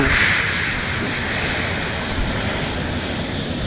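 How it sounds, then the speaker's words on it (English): A Southwest Airlines Boeing 737 MAX 8 jet takes off at Dallas Love Field, and its engines give a steady, loud, continuous roar through the whole stretch with no talking. "That's Southwest Airlines, a MAX 8. It's about to take off."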